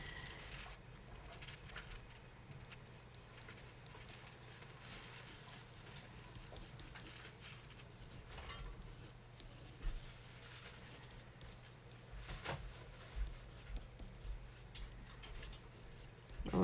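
Pencil sketching on paper while drawing a dragon, with soft scratchy strokes and rubbing repeating irregularly up close, quiet and continuous throughout.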